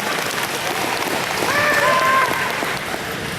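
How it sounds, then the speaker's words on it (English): Audience applause at the opening ceremony of an anime convention, a dense sustained wash of many hands clapping from a large crowd, with cheers and whistle-like tones rising briefly in the middle. "give the organizers, the chairmen, the volunteers, the staff a big round of applause"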